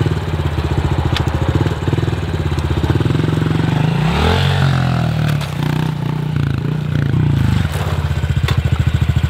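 Dirt bike engine riding at an Arizona cycle park, a loud steady motor with rhythmic pulsing, revving up and down and shifting pitch through the middle, close by and running continuously without talk.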